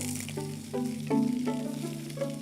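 Chipolata sausages sizzling in a frying pan as they are pushed and turned, a steady crackling fry with soft scraping and knocking of the pan, close and continuous.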